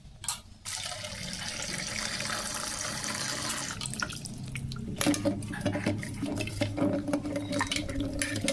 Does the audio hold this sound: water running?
yes